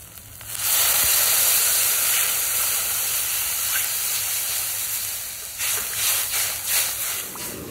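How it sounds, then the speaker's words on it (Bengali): Water hits hot spice masala with oil already separating in a pan, bursting into a loud steady hiss and sizzle that holds for several seconds, with a few fainter clatters toward the end. "এবার আমি জল দিয়ে দেবো"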